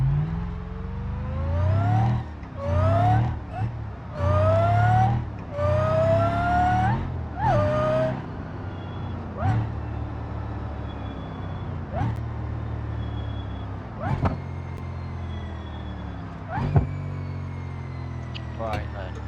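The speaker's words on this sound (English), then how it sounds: "the drag strip and drive a very, very old car" A very old car on a drag strip in a racing game with a force-feedback wheel, its engine revving hard through a string of rising gear pulls, then settling into a quieter drone broken by sharp clunks.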